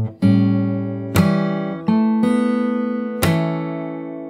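Fingerstyle guitar plays a short passage from a jazz standard, with bright percussive slaps on the strings at a few points between ringing notes and a bass line, up close with no talking.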